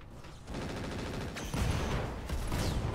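Rapid automatic gunfire from an APOD anti-personnel weapon in the Roguetech mech game, a dense, continuous rattling burst that steps up in loudness partway through, with no talking over it.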